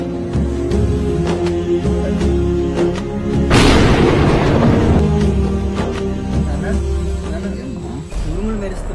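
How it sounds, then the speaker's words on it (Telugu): A deep, rumbling boom of a nearby lightning strike rolls out over steady monsoon rain, with voices talking before and after the crack. "పిడుగు పడినట్టుంది."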